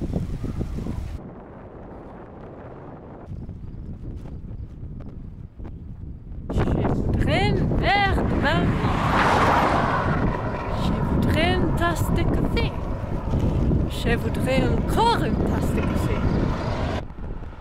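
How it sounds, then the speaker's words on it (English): Strong headwind buffeting a microphone while cycling in Morocco, a steady heavy roar that grows louder and gustier midway, with a voice talking faintly beneath it. "Most of the afternoons in Morocco we had wind that slowed down our cycling a lot."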